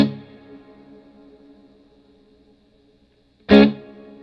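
A guitar through a Line 6 Helix amp setup with a dynamic hall reverb: a chord rings out and decays in a long, smooth reverb tail, followed by a sharp, loud strum near the end.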